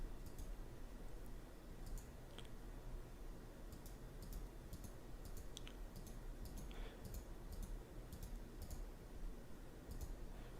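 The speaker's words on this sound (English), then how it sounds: "I'm just going to go ahead and click through next on all these." A computer mouse clicks through PC setup windows while Steam is configured to work with a PS4. The clicks are sharp and very faint, spaced irregularly over a quiet room hum, with no talking.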